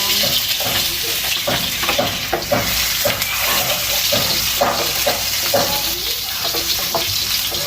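Patola frying in a pan with minced pork, garlic and onion: a steady, close sizzle with repeated scraping and stirring strokes throughout, and no talking.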